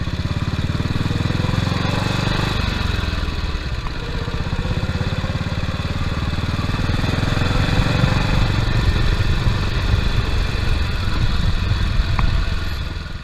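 A 1938 Sunbeam Light Solo motorcycle engine runs close by with a steady, chugging putter that rises slightly partway through and continues without speech.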